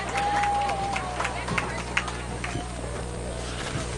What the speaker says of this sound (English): Let's make some noise, Jaguar fans.